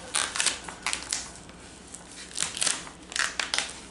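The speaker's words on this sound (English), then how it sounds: "releasing the transfer tape from the backing of the paper." Transfer tape peels away from the paper backing of a large decal, giving a steady run of close, crisp crackling and tearing rasps with uneven bursts over several seconds, no voices.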